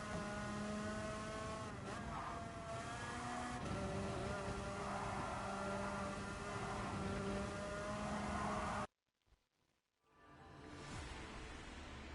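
Go-kart engines drone and rev steadily in a Gran Turismo Sport race, a loud, sustained buzz with shifting pitch that drops out suddenly near the end before a quieter engine sound returns.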